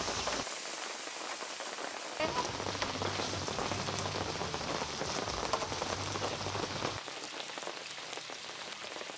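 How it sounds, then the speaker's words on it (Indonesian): Continuous rain falls and patters on a nearby surface at a private campsite in Pangalengan, Indonesia, steady hiss throughout, with a low droning hum in the middle stretch. "Ditemani suara gemericik hujan"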